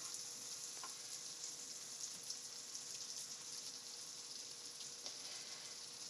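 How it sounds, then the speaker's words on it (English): Steady, close sizzling and crackling of butter frying in a hot pan, a continuous hiss with occasional small pops. "It's sizzling because we had some butter in it."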